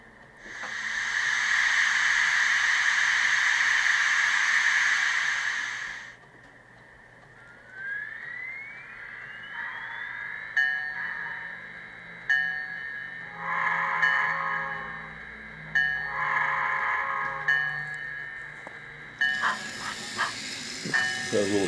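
A Mantua 4-4-0 model steam locomotive with a Tsunami sound decoder, Rock Island & Peoria livery: a long loud steam hiss, then a rising whistle tone and repeated chuffing bursts with bell-like tones, close and steady, without talk.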